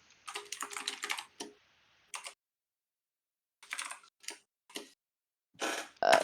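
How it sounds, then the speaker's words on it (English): Someone types on a computer keyboard in short, quiet bursts of rapid clicks separated by pauses, close by and with no other sound. "I'm typing. I'm typing."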